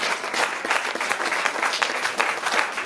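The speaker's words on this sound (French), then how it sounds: "Tim, vous pouvez les applaudir" A concert audience applauds in dense, continuous clapping, lively and fairly close, filling the whole stretch without pause.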